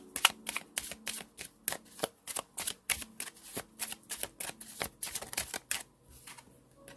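Tarot cards riffle and snap in a steady run of quick, crisp shuffles, close and clear, ending with a short pause as a card is pulled; no talking.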